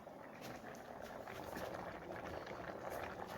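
Saag simmers in a pot on a stove with a soft, steady bubbling and faint popping that stays quiet and unbroken throughout.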